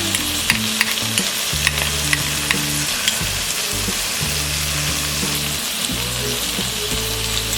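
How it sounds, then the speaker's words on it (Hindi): Green peas frying on medium flame in a pan, a loud, dense and continuous sizzle with a few stirring scrapes mixed in, close up and without speech. "1 cup green peas। इसे हम मीडियम फ्लेम में 2 मिनट तक फ्राई करेंगे।"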